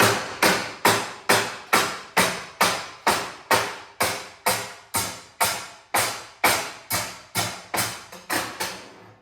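A hammer strikes metal in a decorative iron fence channel about twenty times at a steady, even rhythm, each blow a loud, close ringing clang that decays quickly before the next.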